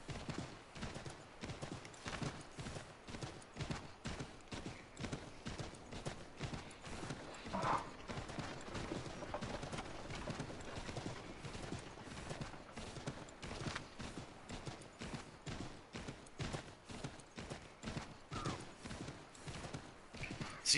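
Horse hooves in the Assassin's Creed 3 Remaster video game, a steady fast clip-clop of galloping beats, evenly paced and continuous throughout, with faint game ambience underneath.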